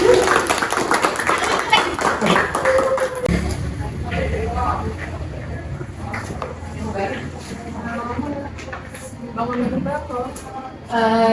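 A group of people clapping hands at a community empowerment presentation, a brief burst of claps at the start that gives way to voices talking over the rest of the moment, with a few scattered sounds later on.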